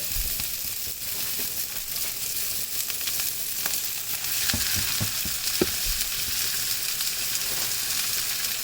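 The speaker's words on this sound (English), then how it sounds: "let's give these onions a little bit of a stir" Onions and garlic frying in a pan while being stirred, a constant close sizzle with scattered scraping and clacking of the utensil against the pan.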